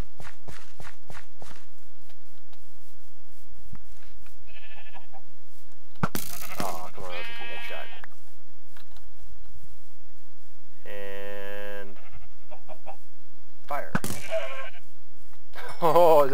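Sheep bleating in Terrafirmacraft, a Minecraft mod: several short, clear, close bleats spaced apart, mixed with footstep clicks and quiet pauses, and someone talking in between.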